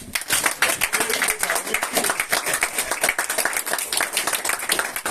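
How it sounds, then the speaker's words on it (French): Church congregation clapping through a service, a dense, steady run of hand claps lasting the whole stretch at fairly close range, with voices mixed into the applause. "Dame un applaudissement, mesdames, encore."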